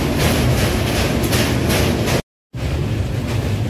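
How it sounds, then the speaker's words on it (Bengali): A train rolling into Kashi station over a bridge, a loud, steady rumble with rhythmic rattling of the carriages, cut briefly by a moment of silence before the roar resumes. "ট্রেন এখন ঢুকছে কাশি স্টেশন"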